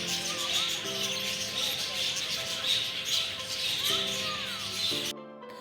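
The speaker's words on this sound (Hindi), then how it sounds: "ये तोते थे, किस्म किस्म के तोते थे, बड़े खूबसूरत दिख रहे थे और शोर भी बड़े मचा रहे थे।" Various parrots at Peshawar zoo chirp and squawk in a busy, continuous chorus at moderate distance, with repeated shrill calls overlapping throughout before cutting off abruptly near the end.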